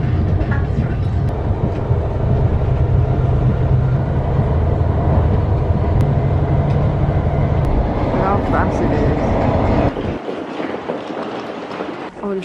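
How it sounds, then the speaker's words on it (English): A passenger train carries riders toward Heathrow, giving a steady loud rumble and clatter of the rail car in motion that drops away abruptly near the end. "We're gonna change the trains to Heathrow."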